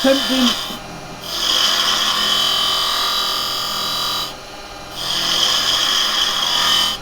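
A wood lathe turning a carbide-tree project while a square carbide chisel cuts, producing a sustained loud, buzzing, rough tool tone that drops out briefly twice before resuming, close to the listener.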